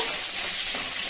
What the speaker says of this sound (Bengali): এই দেখুন মাছটা ভেজে নিচ্ছি।